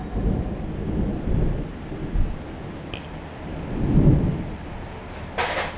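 A rainstorm pours steadily while thunder rolls in heavy low rumbles, swelling twice and fading, with a brief sharp crackle near the end.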